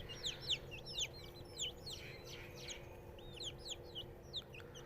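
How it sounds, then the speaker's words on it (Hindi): Golden-breed hens cluck softly while chicks cheep in high, rapid peeps, all steady over a faint background hum. "ये मुर्गी और मुर्गी के बच्चे हैं"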